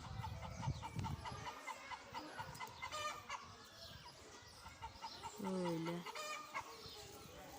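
Chickens cluck and chatter close by in a coop, with an Abyssinian rooster's call and geese among the other fowl sounds, and a brief spoken word partway through.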